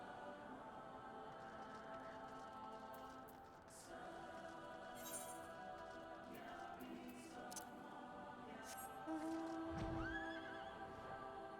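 A horse neighs in a video game, a whinny rising and falling near the end over a steady bed of ambient game music and background tones.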